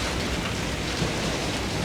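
Heavy rain pours steadily in a dense, continuous hiss with no pauses or voices.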